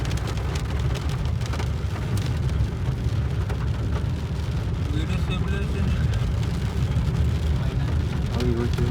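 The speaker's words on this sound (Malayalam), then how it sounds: "നല്ല അടിപൊളി മഴ." Heavy rain pours down steadily in a dense, loud roar, with a car and faint voices underneath and the downpour unbroken throughout.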